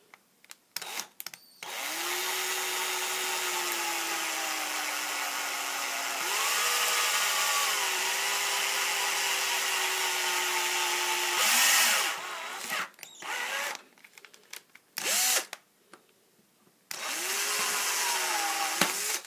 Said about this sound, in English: I drilled a hole in the pipe